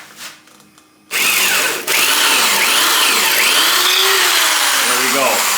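Power drill boring holes into a wooden Telecaster-style guitar body, a loud steady high whine that starts abruptly after a quiet moment, briefly dips, then runs continuously with wavering pitch as it cuts.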